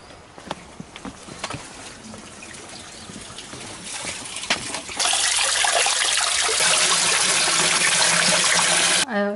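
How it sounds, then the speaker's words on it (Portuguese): Water from a spring pours into a jug as a loud, continuous rushing splash that takes over about halfway through, after a quieter stretch of scattered knocks and handling sounds, ending abruptly. "Vai aqui de novo pegar água."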